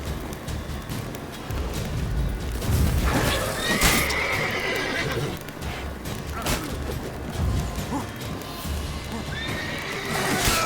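A horse in The Witcher 3 video game whinnies and snorts amid a busy, noisy soundscape with clopping hooves and thuds, a voice speaking briefly in the mix.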